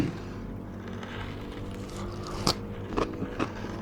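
A 7-Eleven salad roll dipped in thick sauce is bitten into, giving a few crisp, close crunches at separate moments over a low steady background hum.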